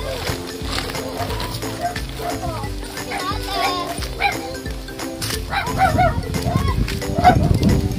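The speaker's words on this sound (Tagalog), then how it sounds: "Uy, baka may aso." A dog barks in a rural home setting in the middle of a forest, with several sharp yips and barks among children and adults talking nearby under a steady background drone.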